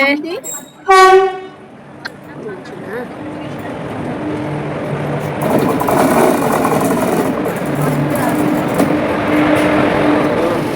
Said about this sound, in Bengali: ওই দেখো ট্রেন ঢুকছে, দেখেছো?